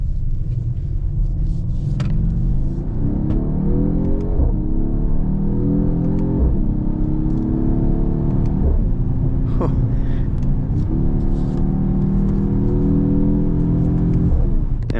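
A Mercedes GT43 AMG's engine pulls steadily, its pitch climbing and dropping back with each gear change, several shifts in sequence, loud and close throughout.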